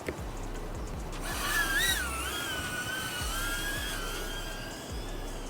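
High-pitched whining of small 2.5-inch cinewhoop drone motors flying in gusty wind, pitch wobbling up and down as they rev, with steady buzzing throughout and no voices.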